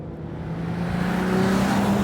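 An Il Mostro car's engine pulls hard under acceleration, a loud, close, rising roar that climbs steadily in pitch for about two seconds with no talk.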